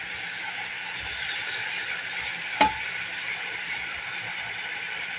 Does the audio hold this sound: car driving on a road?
no